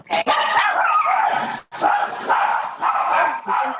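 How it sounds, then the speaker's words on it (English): Several dogs barking, snarling and yelping in a fight, loud and continuous with a brief break, close by and alone. "Some dogs are fighting."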